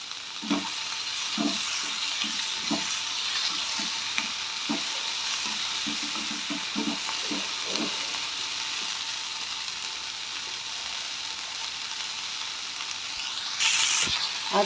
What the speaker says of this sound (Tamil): அடுத்து காஞ்ச மிளகாவும் சேர்த்தாச்சு